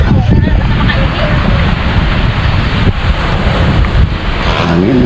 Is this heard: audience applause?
no